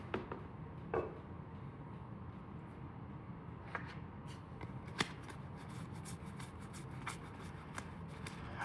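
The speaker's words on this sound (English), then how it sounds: "Then we have to shuffle 4 core failure cards and draw 1 face down." Cards for a solo board game are shuffled by hand at a table, giving quiet, close riffling and sliding sounds broken by a few soft taps and clicks.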